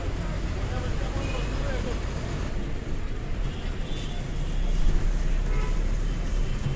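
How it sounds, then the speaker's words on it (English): Central Nagpur bus stand at Ganeshpet, with a dense, steady rumble of idling buses and traffic, continuous crowd babble and voices talking close by. "Central Nagpur bus stand, Ganeshpet."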